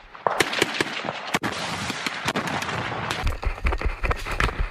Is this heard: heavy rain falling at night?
no